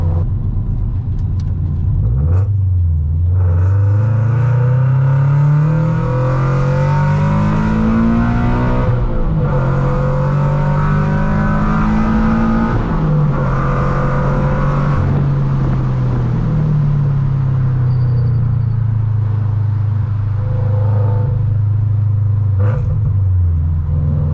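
A deep, steady exhaust rumble from a tuned Subaru BRZ with an aftermarket header, engine revs rising and falling in pitch, loud and close throughout, no talking, at night.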